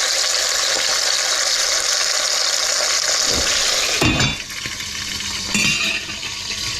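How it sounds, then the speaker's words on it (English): Chicken carcass frying in rendered oil over raised heat, a loud, continuous bright sizzle with a few soft knocks and clinks of the pan partway through, no voices. "Now I'm just gonna cook off, or fry off if you like, the carcass"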